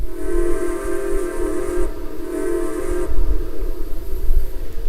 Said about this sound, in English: I just really like the way that whistle sounds.